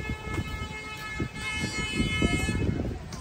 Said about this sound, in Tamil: ட்ரெயின் வருது, ட்ரெயின் வருது.